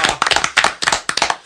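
A small group claps hands in a short, close burst of uneven, loud slaps to welcome a guest onto a talk show.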